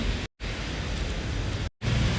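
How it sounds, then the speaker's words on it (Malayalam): Heavy rain pours in a dense, steady hiss, loud and close, broken by two brief cuts to silence. "പുറത്ത് നല്ല മഴ"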